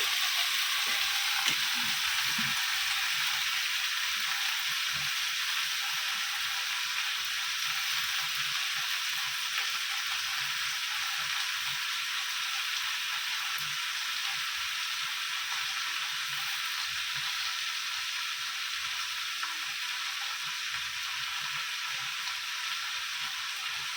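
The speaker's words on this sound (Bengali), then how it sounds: "আর এখানে মাংস তেল দিয়ে দিয়েছি, একটু লঙ্কা ফোড়ন দেবো" Chicken pieces sizzling steadily in hot oil in a home kitchen as chilies are tempered, a continuous close frying hiss with occasional stirring scrapes and no talking.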